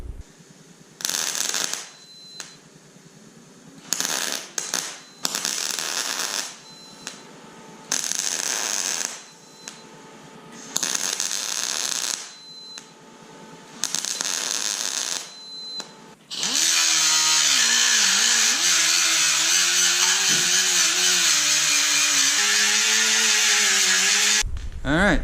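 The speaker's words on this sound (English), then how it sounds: "I'm going to get the welder over here and weld this sucker up" A welder tacks up a patch in a Ford Bronco body panel, giving a string of short, loud crackling bursts with gaps between them, followed by a long, steady, harsh hiss.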